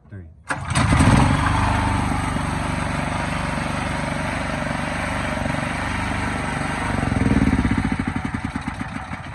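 A pull-start generator engine with a newly replaced starter rope fires up sharply after a short pause, then runs at a loud, steady roar, surging briefly near the end, with voices in the background.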